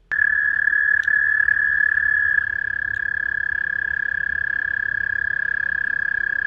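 A frog sings in water with one steady, shrill, unbroken trilling tone. It is loud and close and carries on alone for several seconds.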